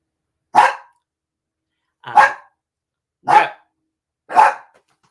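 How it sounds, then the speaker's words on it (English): Dogs bark at someone outside: four separate sharp barks spaced about a second apart, clear and fairly close, with silence between them. "my dogs have to let them know they're not welcome"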